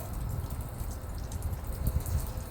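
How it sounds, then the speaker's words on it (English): Water streaming steadily down a window pane from a water-fed pole brush during outdoor window cleaning, a continuous soft splashing trickle with slight dripping, heard up close. "the water is flowing down from the window, and it's making almost like a"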